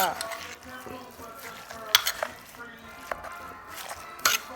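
A utensil stirs a salted bamboo shoot mixture with herbs, giving soft scraping and a faint sizzle, broken by a few sharp clinks against the dish, close by.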